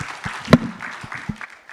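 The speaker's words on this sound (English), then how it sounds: "Could we just get another round of applause for these guys right here?" An audience at a talk on art and sports gives a short, thin burst of applause, scattered individual claps that thin out to a few last pops.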